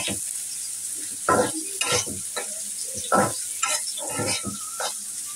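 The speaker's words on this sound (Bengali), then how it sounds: "পেঁয়াজটা লাল করে ভেজে নেব।" Chopped onions sizzle in a pan with a continuous frying hiss while a spoon stirs, giving repeated loud scraping strokes against the pan; no voices.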